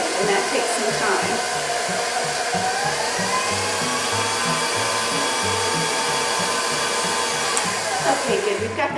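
An electric hand mixer creams softened butter and sugar for muffin batter, a steady loud whirring motor drone with a rhythmic beater clatter against the bowl running throughout, no talking.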